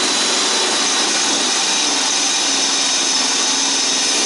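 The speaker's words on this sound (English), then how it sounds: "get out the old drill, drill us some holes" A steady, high-pitched whirring drone of a power drill boring holes in metal runs continuously and loudly, without pauses.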